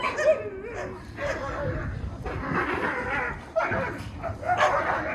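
Several dogs bark and yip at a young wolf pup outdoors, a busy, overlapping run of close barks and whimpers, with people talking over them.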